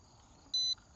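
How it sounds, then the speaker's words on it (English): A single short electronic beep from a Ruko U11 Mini drone during compass calibration, steady and high-pitched, sounds once against near silence. "So we just spin this horizontally until we hear a beep. There's that beep."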